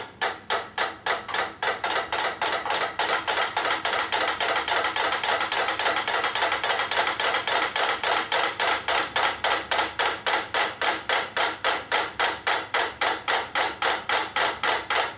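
Several metronomes tick together in a fast, steady stream of sharp mechanical clicks that pulse slightly as they drift toward synchrony, close and moderately loud, with no talk.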